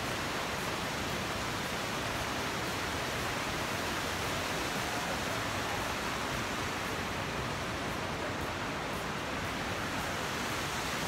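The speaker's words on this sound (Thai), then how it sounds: "เราอยู่ที่น้ำตกลายนะครับ ลายฟอลนะครับ" Rhine Falls waterfall in Switzerland roars as a steady, dense wash of broadband noise, close and continuous throughout, with no voices or breaks.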